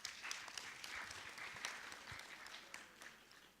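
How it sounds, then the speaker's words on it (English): Audience applause at a business forum on SME growth, a steady wash of many hands clapping at moderate distance, fairly faint and even throughout with no talk over it. "A round of applause to Nyamuka, Zambia, ladies and gentlemen"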